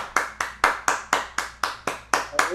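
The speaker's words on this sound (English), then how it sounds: "The roar of the crowd. Hey, I've got applause machines." Sparse, evenly spaced claps from an applause machine sound effect, about ten sharp hand-clap hits in a steady rhythm, close and clear with no voices.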